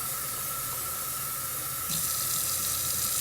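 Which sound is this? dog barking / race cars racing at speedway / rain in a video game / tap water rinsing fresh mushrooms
tap water rinsing fresh mushrooms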